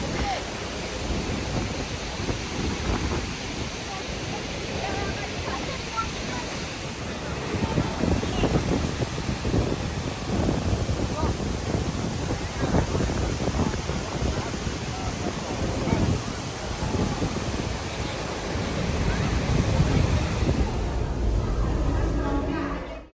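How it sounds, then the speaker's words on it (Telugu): Niagara Falls near the Journey Behind the Falls walkway gives off a steady broadband roar of falling water mixed with gusting wind, continuous and loud throughout, with no clear talk over it. "జర్నీ బిహైండ్ ద ఫాల్స్ దగ్గర మీరు చూసినట్లయితే మన వెనకాలే ఉంటుందనమాట నయాగరా ఫాల్స్."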